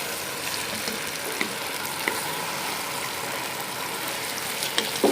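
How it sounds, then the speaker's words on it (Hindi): Bottle gourd frying in masala for a bottle gourd and meat curry, a steady, even sizzle close by with occasional faint clicks of stirring, no one speaking. "सब्ज़ी को मसाले में ऐड करके 2 से 3 मिनट के लिए इसको अच्छी तरह से भून लेंगे।"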